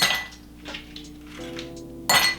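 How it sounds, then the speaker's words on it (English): Ice cubes are cracked into a glass, giving several close clinks and cracks, with a sharper, louder crack at the end and no talking. "what I like to do is crack a few ice cubes first"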